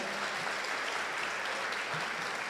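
A church congregation claps continuously, a dense wash of applause from many hands filling the room without pause.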